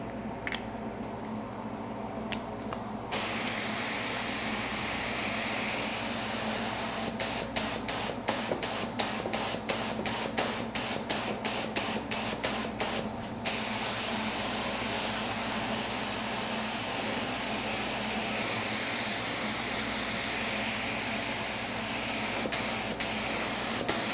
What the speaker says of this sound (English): Let's blow a little bit more air on this, speed this up.